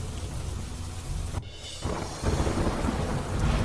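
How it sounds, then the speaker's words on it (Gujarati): Rain pours down in Bhavnagar city after a two-day break, a steady broadband hiss with a low rumble of thunder, briefly dipping before resuming louder and continuous. "બે દિવસનો વિરામ બાદ ધીમી ધારે જામ્યો વરસાદ"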